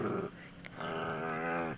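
A dog growls and whines up close, eager to play tug with a rope, in one drawn-out rumbling run of about two seconds with no one talking.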